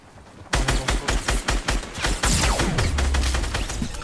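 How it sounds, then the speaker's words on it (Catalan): Rapid gunfire from players shooting in the Fortnite video game, a loud burst of repeated shots starting after a short quiet lead-in and continuing in uneven volleys, with a sweeping tone sliding down partway through. "hi ha gent disparant-me"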